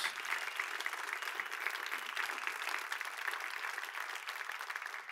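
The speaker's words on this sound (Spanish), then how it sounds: "dale el mejor aplauso a Jesús." A crowd at a church service claps in sustained, dense applause, steady and fairly loud throughout, with no one speaking over it.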